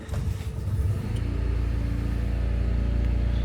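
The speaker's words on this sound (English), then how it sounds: "the car starts right up" A Honda Civic engine idles steadily just after starting, a close, low, even rumble with a slight rev at the start, no talking.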